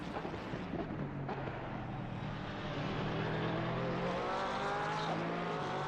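Lexus and Porsche race cars in a racing video game at Misano roar past with high revving engines, pitch sweeping up through gear changes, with a faint tyre squeal and a loud, continuous presence.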